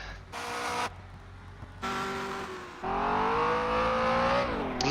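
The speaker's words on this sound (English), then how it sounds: "A lot of wheel spin there, they almost crashed into the pit wall." A race car engine in a racing video game revs, rising and falling in pitch through a few bursts, with a brief whine of spinning wheels.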